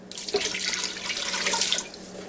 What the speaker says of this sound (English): Okay, now I'm going to start out with 2 cups of water here.